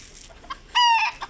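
A red chicken, one of the older birds, gives a few short soft clucks, then a loud, bright, drawn-out cluck or crow call near the microphone.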